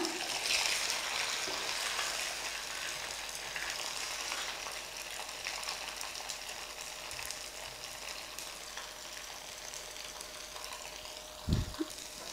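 Idli pieces frying in a pan on a low flame give a continuous, even sizzle with a faint steady hum, plus one brief low knock near the end.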